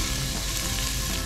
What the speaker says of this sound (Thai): ผัดพริกแกงเผ็ดครับเดี๋ยวจะใส่ลงไป สักครึ่งถุงก่อน